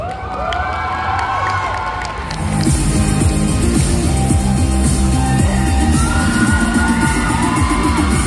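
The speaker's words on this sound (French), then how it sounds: "je vous demande de les applaudir bien fort" Crowd cheering and whooping at a Paris manga and sci-fi fan convention cosplay show for a two-person music act, loud and sustained, swelling into a dense roar after a couple of seconds.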